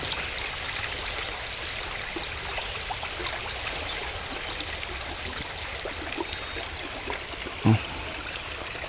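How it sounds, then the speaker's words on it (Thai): Steady rushing of a stream with dense rain patter over it, a continuous outdoor wash of water with one brief knock near the end. "ฝนมาอีกนะครับ"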